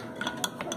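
A utensil stirs a pot of homemade shampoo, giving a few faint clinks and scrapes in quick succession, close by and quiet.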